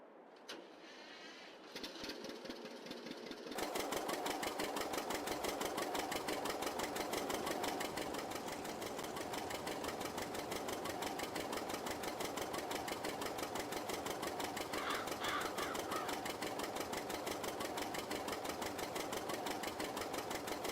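A vintage John Deere 620 tractor engine starts with a rough crank, then settles into a loud, steady, rhythmic two-cylinder chug that runs close and continuous throughout.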